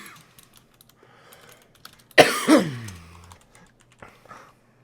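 Sparse soft keyboard taps sit faintly under a quiet room, interrupted by a sudden loud knock-like burst with a ringing tail midway, then a few more light clicks.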